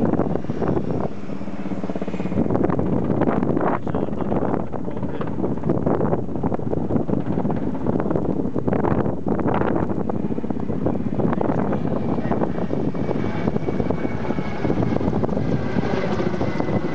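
Helicopter rotors thrum in the distance over a wildfire, mixed with heavy wind buffeting the microphone for the whole stretch.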